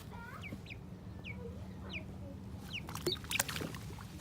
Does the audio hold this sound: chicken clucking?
yes